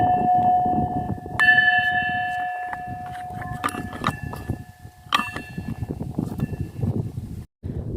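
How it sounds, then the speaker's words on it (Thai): A temple bell rings on the hilltop of Phu Ruai in Thailand's Isan region, its sustained ringing tones overlapping across several seconds, fairly loud against steady wind and ambient noise. "มีระฆัง"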